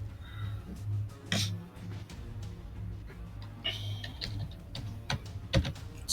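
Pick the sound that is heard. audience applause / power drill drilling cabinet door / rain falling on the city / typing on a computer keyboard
typing on a computer keyboard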